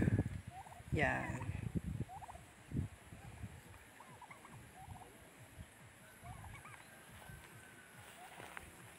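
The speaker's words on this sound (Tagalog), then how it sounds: "maraming mga pabo at saka mga bibi dito" Turkeys gobble repeatedly in short bursts across the scene on a farm with ducks, with outdoor ambience, scattered bird calls and occasional nearby voices.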